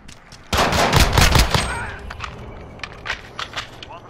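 Gunfire in Call of Duty: Modern Warfare on the Docks map: a loud, rapid burst of automatic shots, then scattered quieter shots and impacts trailing off.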